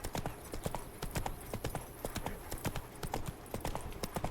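Roach, a horse in The Witcher 3 video game, trots with steady, evenly spaced clip-clop hoofbeats that stay close and clear throughout, with no talking over them.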